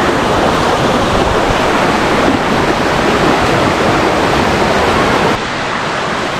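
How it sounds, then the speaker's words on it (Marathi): Steady rushing water pours without pause through a rocky village stream pool, loud and close, a dense broadband roar that eases slightly near the end. "ॲक्च्युली पाण्याचा फ्लो आहे थोडा"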